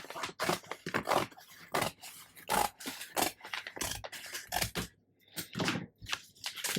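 Scissors cutting and scraping through a padded jiffy bag, close and fairly quiet, in a string of short irregular snips and rustles with brief pauses.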